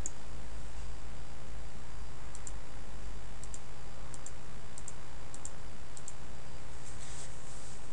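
A computer mouse right-clicking, faint light clicks arriving mostly in quick pairs at irregular intervals over a constant steady hiss, with no talk.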